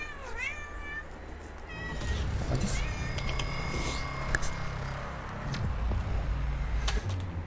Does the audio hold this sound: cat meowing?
yes